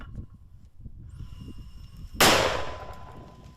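A single explosion-like blast bursts out suddenly in war footage from the fighting around Bakhmut in Ukraine, a sharp loud crack that decays over about a second above faint background rumble and a steady high tone.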